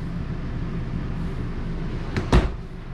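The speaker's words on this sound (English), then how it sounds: "All ball bearing, full extension drawer guides." A ball-bearing full-extension drawer slides in a tiny house on wheels, a short rolling whoosh followed by a soft thump as it closes, heard faintly over quiet room tone.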